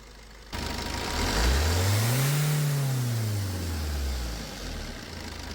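Maruti Ritz diesel car with a faulty turbo-to-intercooler hose, engine revving hard under heavy throttle: a loud, close rise in pitch that peaks and falls back over a few seconds, with no talking.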